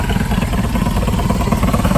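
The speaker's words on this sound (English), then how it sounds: "I wish it didn't have an exhaust leak." Steady, loud engine running soon after a cold start, with a rough, puffing chatter from an exhaust leak, close to the microphone and with no talk.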